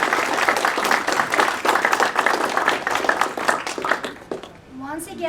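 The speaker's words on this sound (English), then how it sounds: "please extend one more round of applause to Professor Jason Roberts, Cheryl Prophet, and Jason Painich" An audience at a college scholarly conversations event gives a round of applause, a dense sustained clatter of many hands that thins out near the end, as a voice begins speaking over the tail.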